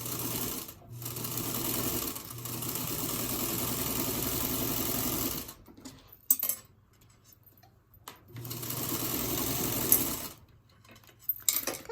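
A sewing machine runs a fabric seam in several bursts of steady whirring, with quiet gaps and small handling clicks between them.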